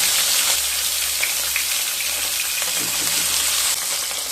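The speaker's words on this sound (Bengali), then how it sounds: "এবার মাছগুলোকে ভেজে নেব।" Tilapia fish fry in mustard oil, giving a dense, loud, continuous crackling sizzle close up, steady throughout with small pops.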